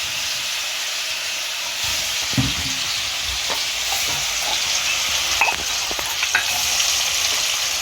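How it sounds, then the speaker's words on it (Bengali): Paneer frying in a pan gives a steady loud sizzle and hiss throughout, with occasional stirring scrapes and clicks, and no talking. "আমি এখন পনিরটা ভেজে নিচ্ছি।"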